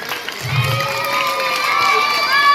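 A crowd of schoolchildren at a government school in Siddayyanapura, Chamarajanagar, cheers and shouts loudly, steady and close, with bursts of excited voices over a continuous clamor.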